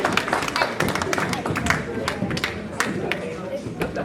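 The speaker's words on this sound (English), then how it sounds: "On applaudit, s'il vous plaît." An audience at a formal evening event welcomes a dignitary with applause: many close, sharp hand claps in a lively, uneven patter that tapers slightly toward the end.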